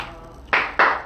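Three sharp, loud hand claps close by in an even rhythm after a quiet moment in a studio talk show, like a single person applauding slowly.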